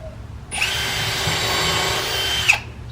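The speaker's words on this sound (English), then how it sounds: "So this way I don't worry about drilling into a screw." A power drill whirs steadily into a wooden frame for about two seconds, close and loud, starting and stopping sharply.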